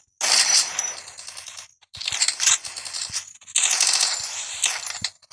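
M10 gun firing in Garena Free Fire: loud rapid automatic bursts with bright metallic crackle, three long strings of shots separated by short pauses with a few single clicks, no voices.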